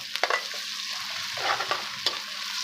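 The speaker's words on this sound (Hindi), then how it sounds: "इससे पहले हम डाल देंगे लहसुन अदरक का पेस्ट 1 चम्मच भर के" Garlic ginger paste frying in hot oil for chicken biryani, a steady close sizzle with a few sharp stirring clicks of a spoon against the pan.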